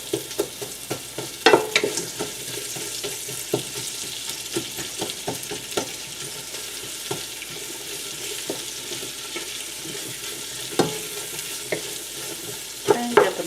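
Chopped onions frying in olive oil, a soft steady sizzle punctuated by intermittent clicks and scrapes of a utensil breaking them apart in the pan.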